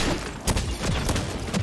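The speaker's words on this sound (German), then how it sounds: "ihr seht diese Explosionen, die dabei entstehen, sobald wir einen Gegner treffen." Rapid bursts of gunfire with small explosions on hitting enemies in the video game Second Extinction, a dense run of sharp impacts and booms over continuous game noise.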